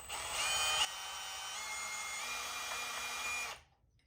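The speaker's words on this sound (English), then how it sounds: "Low speed on the drill, and I'm going to go slow with the trigger" A drill running a hole saw whines steadily at a moderate, even low speed, close and fairly loud, then stops abruptly.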